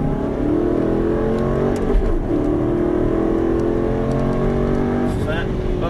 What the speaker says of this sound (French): Allez, vas-y, mets les gaz.